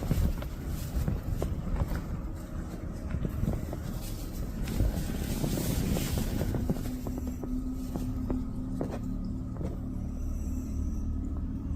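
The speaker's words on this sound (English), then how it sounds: "I know it's windy" Wind buffeting a tent at night, a constant loud rumbling gusting roar with scattered faint knocks and rustles throughout, no voices.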